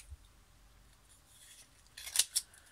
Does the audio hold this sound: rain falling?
no